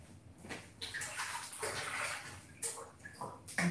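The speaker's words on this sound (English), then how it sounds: "I need to wash my hands as well." Running water from a tap splashes and sloshes as hands are washed, with uneven bursts and gurgles close by and no talking.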